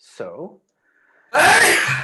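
A single sharp sneeze bursts out at close range during a live book club session, preceded by a brief spoken word and a quiet pause.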